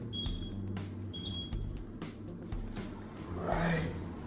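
An oven timer signals that burger buns are done with two short, faint, high beeps in quick succession over a quiet kitchen background, followed by a soft breathy sound.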